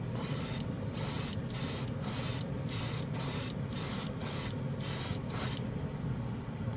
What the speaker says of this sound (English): I love this airbrush